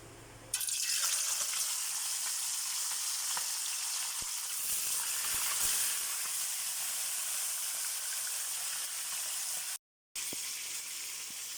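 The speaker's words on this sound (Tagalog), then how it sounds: "Prito na natin yung ating pritong tilapia." Tilapia frying in hot oil in a home kitchen, a steady dense sizzle and spatter that runs loud and even throughout, with one brief dropout near the end.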